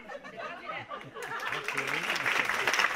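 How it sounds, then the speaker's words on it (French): Applause from a French cabaret audience swells over the second half, mixed with laughter and chatter, while voices carry on in the room. "Applaudissez-la, donnez-lui, voilà."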